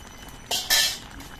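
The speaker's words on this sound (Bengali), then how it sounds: "তিন চার মিনিট পর আবার আমি ঢাকনাটা খুলে নিচ্ছি" A short metallic clink and scrape as the lid is lifted off a pot of vegetables simmering for thankuni leaf shukto, close and brief over quiet background noise.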